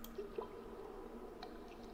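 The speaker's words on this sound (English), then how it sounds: "I hear water dripping" Water drips inside a house in the horror video game The Beast Inside, a few faint, sparse plinks over a quiet ambient hum, with no one talking.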